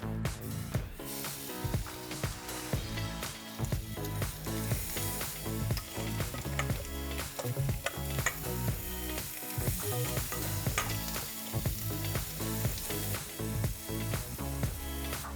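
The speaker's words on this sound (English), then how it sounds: "let's grill some lobster" Lobster sizzling on a grill as a steady, crackling fry with spitting pops throughout, close and continuous, no voices over it.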